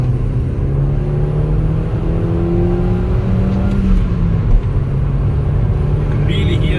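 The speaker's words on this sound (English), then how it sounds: "You can really hear that induction kit doing its job." A Mk2 Seat Leon FR engine with an induction kit pulls hard through second gear, with a deep, steady intake roar rising gradually, heard from inside the car.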